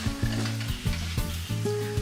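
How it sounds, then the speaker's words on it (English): A pot of bow tie noodles cooks on the stove, giving off a steady bubbling, sizzling hiss that sits under faint low background tones. "I'm boiling some bow tie noodles"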